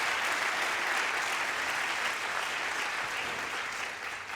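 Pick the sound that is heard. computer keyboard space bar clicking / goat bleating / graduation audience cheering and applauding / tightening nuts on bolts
graduation audience cheering and applauding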